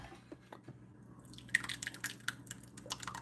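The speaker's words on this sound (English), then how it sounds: "let's go ahead and pour this into the bowl" Blended Zuppa Toscana soup is poured into a bowl, giving quiet wet plops, drips and splatters that grow busier after a soft start, close up with faint background hum.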